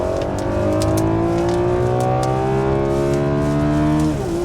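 A Ferrari 12Cilindri V12 engine revs hard to 9500 rpm, a loud, steady high-pitched howl climbing smoothly in pitch before easing off abruptly at the end, close and continuous with no speech.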